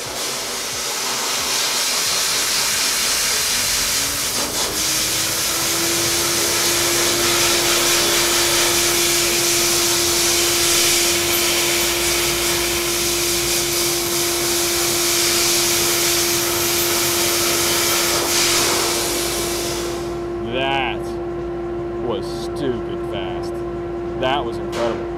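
A dry soda blaster hisses in a loud continuous roar, stripping grease and grime off a part in a large work area with a dust collector running, then cuts out near the end, leaving quieter room noise.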